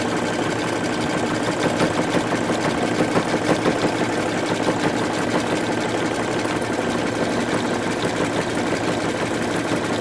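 A sewing machine runs zigzag stitches over a hole in a pair of jeans, a steady close mechanical whir with rapid needle rhythm lasting throughout without pause.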